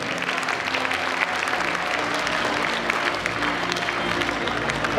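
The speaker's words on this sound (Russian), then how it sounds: "А пока аплодисменты, это инженерный факультет, давайте поаплодируем" Steady, dense applause from a large audience at a student spring festival gala concert, sustained and even throughout, with a faint crowd murmur underneath.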